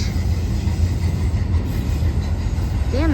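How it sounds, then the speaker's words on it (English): A heavy freight train hauled by four engines rumbles steadily past near a beach, loud and close, with continuous low rolling wheel noise and a brief squeal near the end. "That must be a really heavy train."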